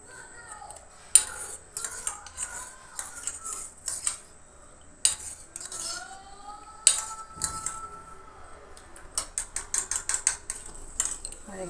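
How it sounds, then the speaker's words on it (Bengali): Soy sauce being stirred with a little water in a bowl for chili chicken, heard as repeated metallic clinks and scrapes of a spoon against the dish in quick bursts, close and fairly loud with short pauses between. "অল্প করে নিয়ে নিলাম সয়া সস, সামান্য একটু জল দিয়ে এটাকে আমি মিক্সড করে নেব।"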